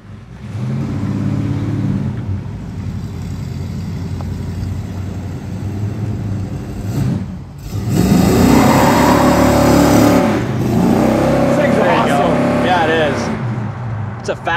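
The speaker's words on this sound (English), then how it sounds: "Today, we're test driving and checking out a 1969 Olds 442 convertible." A 1969 Oldsmobile 442 convertible with a factory 455 engine and dual four-barrel setup rumbles steadily on a test drive, then revs harder in a rising surge before settling back.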